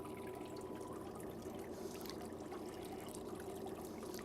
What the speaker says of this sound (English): As the tank is filling with water